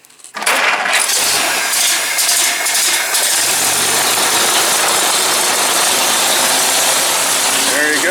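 A 1936 car engine cranks and catches on choke with a newly fitted exhaust, then settles into a steady, fairly loud idle close by, with faint mechanical ticking throughout.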